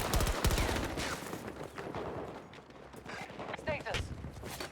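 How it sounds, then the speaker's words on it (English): Rapid gunfire crackles through a Battlefield 2042 infantry match, bursts of automatic shots and distant explosions layered in a busy battle mix, with voices talking under the shooting. "Rory, get a grip with your shooting."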